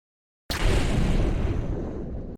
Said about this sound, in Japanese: 本当に目の前で花火起きた。